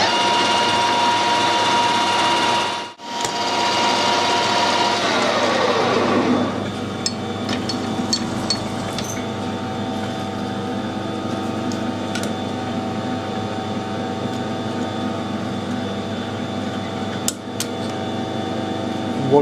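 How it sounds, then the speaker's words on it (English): A metric metal lathe turns down a 23mm nut, a steady mechanical whirring hum with a broad cutting hiss that fades after a few seconds, then a lower running drone with faint ticks and clicks. "It is a metric lathe."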